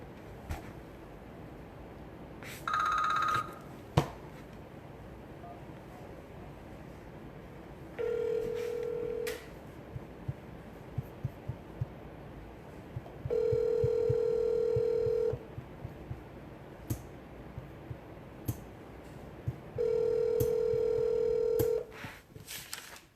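Several separate electronic tones sound one after another with quiet pauses between them, like a phone being dialed and ringing, fairly faint with scattered clicks.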